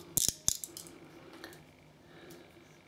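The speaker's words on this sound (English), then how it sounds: "put the little black rubber washer on and screw the handle back in" A handle screws back onto a carbon CX-316L safety razor: a few quick close clicks and ratchety metallic ticks at the start, then faint small scraping in a quiet room.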